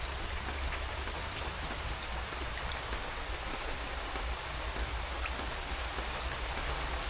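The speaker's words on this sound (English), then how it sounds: "Hopefully we'll get enough rain today to fill all my water butts." Steady rain falls across a garden with water butts set out to collect it, a dense continuous hiss of drops on surfaces, even and unbroken throughout, with no voices.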